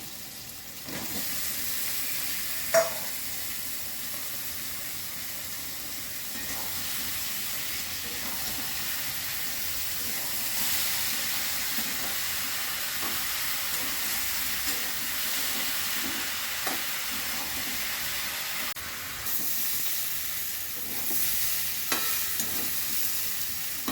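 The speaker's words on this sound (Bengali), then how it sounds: "এরপর সেদ্ধ করে নিয়েছি এঁচোড়টা দিয়ে দিচ্ছি" Boiled jackfruit fried and stirred with ground cumin in a pan gives a steady, close sizzle, with occasional scrapes and clicks of the spoon running through for the whole stretch.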